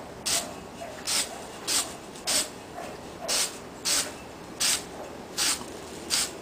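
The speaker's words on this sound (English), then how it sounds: "I suggest using a fast dry spray paint." Short, regular hissing bursts of fast-drying spray paint applied to a pipe, about ten evenly spaced sprays, close and fairly loud with quiet gaps between.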